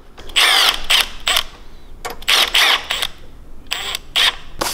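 A power tool snugs the bolts on a go-kart charging coil in three short bursts of whirring and ratcheting, each lasting about a second, loud and close with pauses between them.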